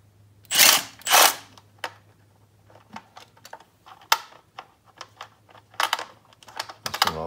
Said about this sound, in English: All right, time to remove the lead bolts here.